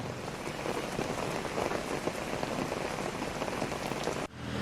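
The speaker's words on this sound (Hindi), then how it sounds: "दिल्ली के कई इलाकों में आज बारिश हुई।" Steady, dense rain falls on city streets in Delhi, a continuous loud hiss with constant patter throughout that cuts off abruptly near the end.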